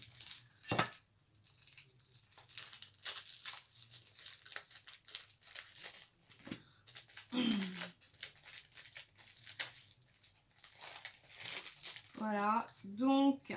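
Crinkly packaging being torn and crumpled open during an unboxing, a run of close, scratchy rustles and rips in short bursts, with a voice speaking briefly near the end.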